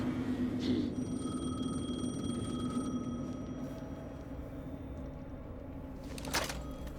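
Telephone ringing in the video game Alan Wake 2, a steady electronic ring holding for about three seconds over a low background hum, then fading out, with a brief burst of noise near the end.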